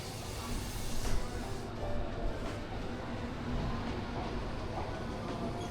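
A Japanese train in Kagoshima rumbles steadily as it pulls away from the station, a broad continuous roar with faint squeals and no voices.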